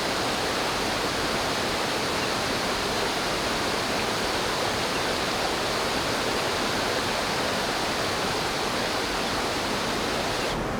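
A waterfall swollen by the previous night's rain roars with a constant, even wash of rushing water, loud and unbroken from start to finish, with no voices.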